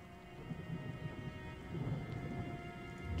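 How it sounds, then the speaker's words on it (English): New Year's Eve fireworks go off outside, muffled by the thick storm-rated windows of a soundproof studio, as low, distant rumbling booms that swell and recede over a steady hiss, with no one talking. "There are fireworks happening outside right now."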